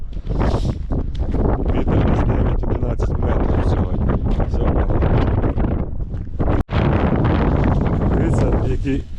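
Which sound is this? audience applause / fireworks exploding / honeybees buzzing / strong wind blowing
strong wind blowing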